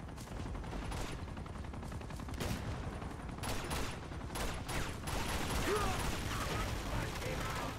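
Automatic gunfire in the Uncharted 2 action game, a steady dense rattle of rapid shots with louder bursts and impacts mixed in, loud and continuous throughout.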